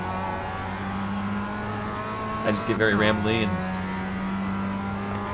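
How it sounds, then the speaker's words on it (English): A Mazda race car in the iRacing game at the Nordschleife holds a steady engine drone throughout, with a brief burst of shifting revs midway while someone talks over it. "have a few moments of just hearing the car."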